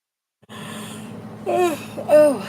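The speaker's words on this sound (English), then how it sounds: "I hadn't been yawning until just now." A person yawns with a long breathy exhale, then two drawn-out, voiced, sliding sighs that swell louder toward the end, close and alone.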